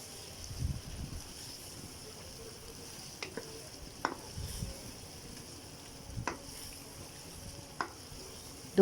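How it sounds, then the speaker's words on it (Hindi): Chicken with green chillies and coriander stir-fries on a high flame in a pot, a low steady sizzle broken by several sharp scraping stirs and clinks of a spoon, with no talk. "इसको भी हम इसमें अच्छे तरीके से मिक्स कर लेंगे और थोड़ी सी तेज़ आंच पे इसे 2 से 3 मिनट के लिए भून लेंगे।"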